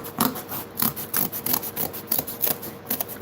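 Scissors cutting through cardboard for a model medieval dock house, a close series of about a dozen crisp, rhythmic snips and scraping rasps with no voices.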